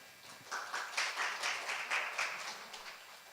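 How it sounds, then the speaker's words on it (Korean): Audience applause greets a speaker taking the stage at a talk on restoring the Academy Theater in Wonju, a steady spread of moderate clapping lasting a few seconds with no voices. "박수로 맞이해 주십시오."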